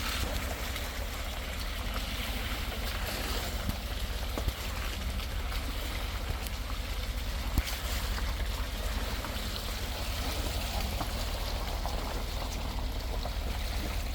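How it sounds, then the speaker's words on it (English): A flowing creek on an off-grid homestead after wet weather, a steady broadband rush of water running continuously and evenly throughout, fairly close, with no talk. "Creeks are flowing."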